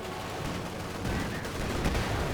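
Company of Heroes 2 winter battle at Rzhev: a Panzer IV tank fires on a mortar half-track amid a dense, unbroken wall of gunfire, booming blasts and rumbling explosions.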